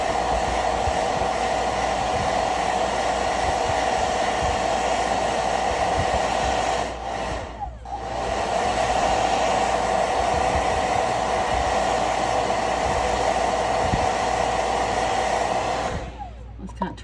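A hair dryer blowing hot air to dry chalk paint on a handmade Christmas ornament, a loud continuous roar held close with brief dips as it is moved, then cutting off near the end.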